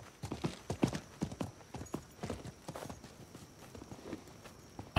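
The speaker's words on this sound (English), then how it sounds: "I think that was the merchant's horse." A merchant's horse clops along at a steady walking gait in Diablo IV, with close, even hoofbeats repeating throughout.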